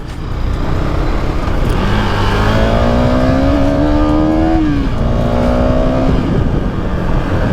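A second-hand KTM Duke 250 BS4 motorcycle engine revs steadily, its pitch climbing, holding, then dropping and rising again over a constant loud mechanical roar.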